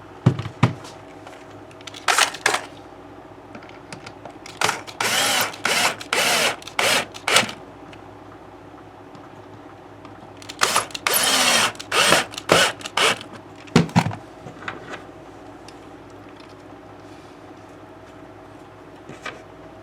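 A power drill runs in short bursts on a 1960s Teisco guitar under repair, several whirring spurts separated by pauses, with quieter mechanical clicks between them.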